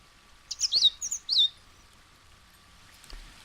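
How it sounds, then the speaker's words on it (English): A bird in the adventure game Book of Unwritten Tales 2 gives a quick burst of four or five high, bright chirps close by, followed by near silence. "What an annoying bird."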